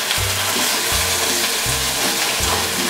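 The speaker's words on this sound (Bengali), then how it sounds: "এখন এর মধ্যে আমি দিয়ে দিচ্ছি কেটে রাখা আলুর টুকরোগুলো।" Capsicum and potato pieces frying in a pan for a vegetarian dish, a steady loud sizzle with a few soft stirring scrapes under it and no talk.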